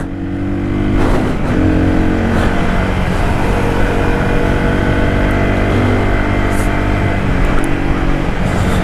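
A motorcycle engine revs up and accelerates hard to overtake on a mountain road in Spiti, India, its steady loud drone rising and holding close throughout with wind noise.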